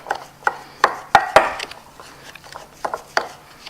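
Irregular knocking and scraping of a utensil against a bowl while mixing cheesecake ingredients in preparation for an Instant Pot cheesecake, a series of sharp close taps with short pauses between them.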